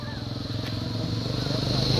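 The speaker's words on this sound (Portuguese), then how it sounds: "A moto, cuidado." A motorcycle passes close by on a country road, its engine a steady buzzing putter that grows slightly louder over two seconds, with voices in the background.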